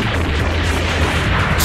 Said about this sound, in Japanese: バトルベース、ミサイル全弾発射。